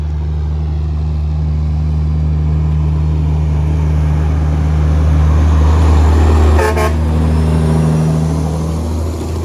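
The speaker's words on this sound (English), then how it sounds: "So you're going to see a big logging truck." A big logging truck heavily stacked with wood passes on a road along the Appalachian Trail, its engine droning loudly and building as it nears, with a brief horn toot as it goes by.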